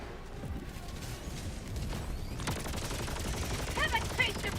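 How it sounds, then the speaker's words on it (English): An orbital barrage in a sci-fi shooter video game, rapid crackling bursts of distant explosions that intensify midway into a dense, continuous rattle, with faint voices in the background. "Let's start with a barrage over there"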